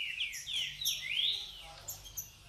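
Small songbirds chirping and whistling at a professional breeder's aviary in Rio Bonito, bright repeated calls close by over a faint low background hum.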